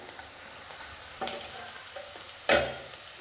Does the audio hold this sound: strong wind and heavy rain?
no